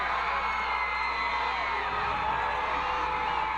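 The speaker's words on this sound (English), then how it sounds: "A lot of noise coming from the crowd as the hometown Dexter Bearcat fans getting into the ballgame" Home crowd of Dexter Bearcat fans at a high school regional football game, a dense wash of cheering and whooping voices, steady and moderately distant, filling the whole stretch.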